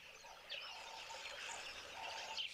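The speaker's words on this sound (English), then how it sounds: "a couple of hornbills here in the background" A couple of hornbills call faintly in the background of a quiet natural setting, soft chirping notes drifting over a low hush.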